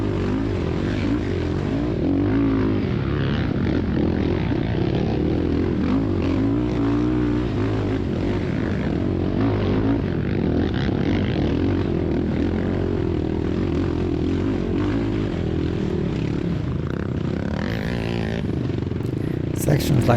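ATV quad engine laboring uphill through a rocky section of a hare scramble race at Wolf Rock Farm, a steady loud droning roar that holds throughout with little letup.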